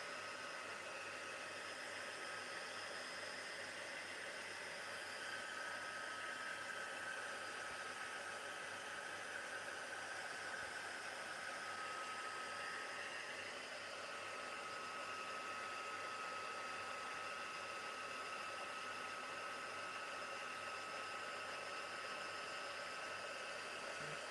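A hair dryer dries a mixed media artwork on paper, a constant, fairly soft whooshing hum that runs unbroken for the whole stretch with no talking.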